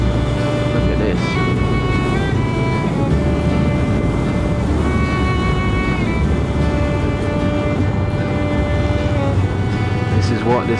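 Triumph and Harley motorcycles riding along winding English countryside roads, a steady loud engine drone with harmonic whine and wind rush that holds the whole way with no break.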